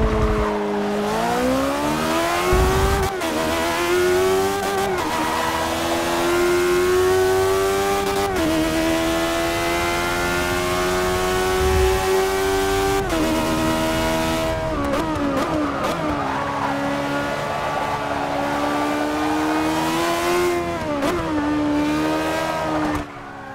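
A Caparo T1 race car's engine screams in Forza Motorsport 6, revving high and steady with brief dips at gear changes, loud and continuous throughout with no voices.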